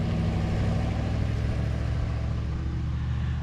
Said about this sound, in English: It's the first time he's driving that van.